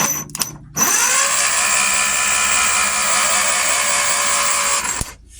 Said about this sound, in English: solenoid starter is not working, so I'm just using a good old 7/16 spanner and just shorting it out